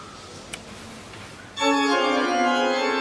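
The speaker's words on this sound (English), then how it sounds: "you can hear the organ down in the background." A sustained church pipe organ chord swells in partway through, rich and steady, after a quiet stretch with a faint tap.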